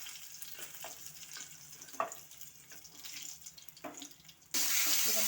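Green chillies fry in a little oil in a pan, a close, soft sizzle with scattered clicks and stirring, ending in a louder steady hiss.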